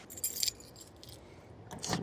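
Truck keys jangling as a driver opens his truck, two short metallic rattling bursts close by, one at the start and one at the end, with quiet in between.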